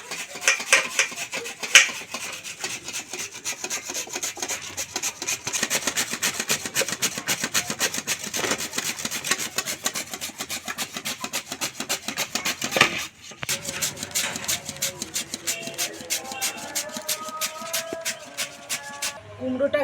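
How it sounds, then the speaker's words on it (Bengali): A peeled pumpkin is rubbed against a hand grater in quick, steady scraping strokes for most of the clip, close and continuous, with a few tonal voice-like sounds creeping in near the end. "গেটারে করে কুমড়োটা গ্রেট করে নেব।"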